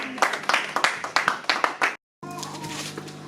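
Church congregation clapping together at a Sunday service, a steady run of sharp, fairly close hand claps that stops abruptly for a moment before resuming under a sustained musical tone.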